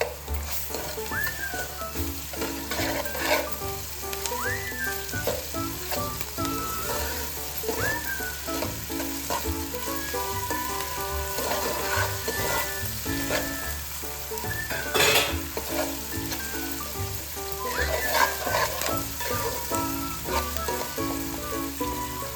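Ginger garlic paste frying with onions in a pan for a homemade chicken dish, a steady close sizzle with repeated spatula scrapes and occasional clinks against the pan throughout.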